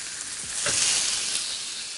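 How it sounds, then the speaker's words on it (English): Vegan steaks sizzle on a hot, smoking griddle pan with a steady close hiss that swells briefly as they hit the surface. "Now that the griddle pan is hot and smoking, let's get these steaks in."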